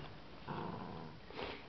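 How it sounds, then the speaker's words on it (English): A dog growls low and close, a rumbling snarl that pauses briefly before a second, louder burst, with no talking. "Who are you growling at?"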